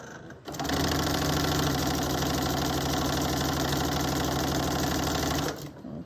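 A sewing machine stitching a quarter-inch seam on two quilt strips at a 2.4 stitch length runs in one steady, loud, close burst of about five seconds, starting and stopping abruptly.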